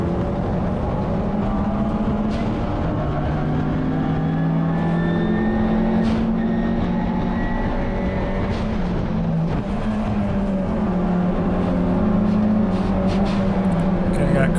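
Inside a Mitsubishi Evo 9 racing wheel to wheel on track, the engine drones steadily, rising and falling in pitch as other race cars run close by. The driver talks throughout over the engine.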